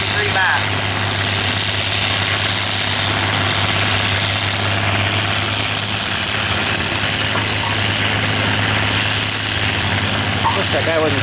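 John Deere tractor engine running under load at a heritage tractor show in Bruce County, a steady loud low drone with a constant throbbing hum throughout, with people talking over it.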